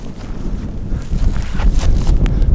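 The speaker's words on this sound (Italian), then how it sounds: "c'è vento" Strong gusty wind buffeting the microphone high on an alpine mountain pass in the Lagorai range, a loud continuous rumbling roar that swells and surges, with no voices.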